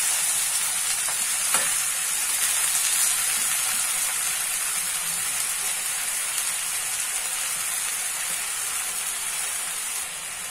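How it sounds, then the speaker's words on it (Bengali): Pumpkin leaves sizzle softly and steadily in a pan with a couple of faint stirring clicks early on, fading slightly toward the end. "এবার এটা অল্প একটু ভাজা ভাজা করে নেব"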